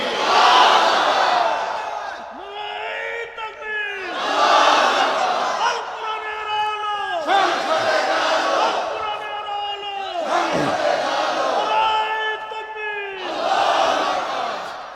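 A large crowd at an Islamic mahfil gathering roars Allahu Akbar in unison, answering a leader's takbir call in about five loud, rhythmic surges spaced a couple of seconds apart.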